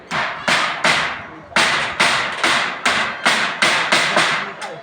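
Nails are hammered into corrugated zinc roofing sheets on a rural building site, about a dozen loud ringing metallic strikes in a steady rhythm, each with a short bright ring before the next blow.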